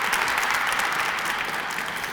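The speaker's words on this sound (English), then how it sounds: "if you guys can give him another round of applause" Sustained, dense audience applause at a Black History Month closing ceremony honoring community members, a loud continuous wash of many hands clapping with no talking.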